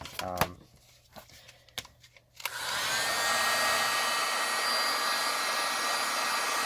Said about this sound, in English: You don't want to put too much heat, so you grab your heat gun.